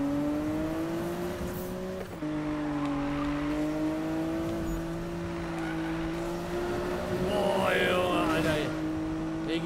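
A Porsche driven in the Need for Speed racing game gives off a steady engine drone with gear changes and a rising rev near the end, loud and continuous with no talking.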